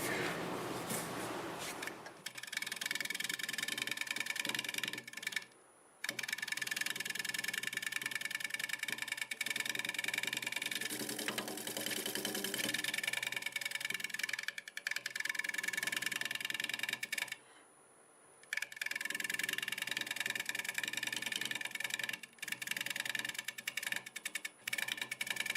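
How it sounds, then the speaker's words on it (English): A wood lathe spins a red bud wood bowl while a scraper cuts the top area, giving a steady, close whirring scrape that runs continuously with two brief pauses where the tool lifts off. "I'm going to use the scraper and get the top area while I can"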